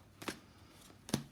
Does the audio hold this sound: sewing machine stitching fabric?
no